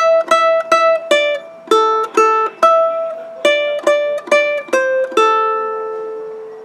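A riff plucked on guitar: a brisk run of short, separate picked notes in a bouncy repeating pattern, close and clear, with the final note left ringing.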